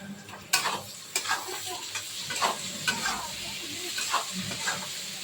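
Onion, capsicum and chilli fry in a pan for chow mein, a steady sizzle broken by repeated scrapes and stirs of a utensil against the pan, with no voices present.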